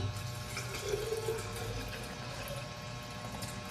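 Water poured into a container of homemade ginger lemonade, a steady close splashing and running flow that fills the whole stretch evenly with no speech.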